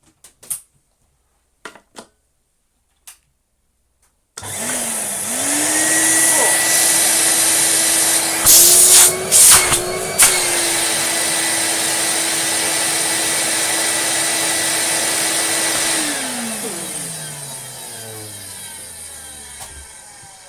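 A Miele S300i base model vacuum cleaner plays its first run after a few clicks and bumps. The motor swells to a loud, steady drone for about twelve seconds, rattles briefly as debris is blown, then winds down slowly.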